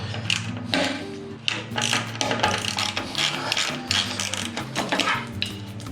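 Socket wrench and spanner working a nut loose on the rear fender of a Harley Sportster 1200: irregular metallic ratcheting clicks and clinks of tools against metal, close up, with no talking.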